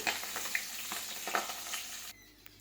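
Fish head frying in hot oil, a loud dense sizzle with sharp spluttering pops, close up, fading to quiet near the end.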